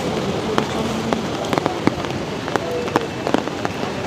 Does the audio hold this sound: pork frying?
no